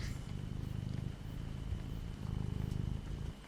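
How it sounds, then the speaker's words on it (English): Close purring of a cat, a low rhythmic rumble pulsing in steady breaths with slight pauses between cycles, soft and intimate with no talking. "You are hearing purring."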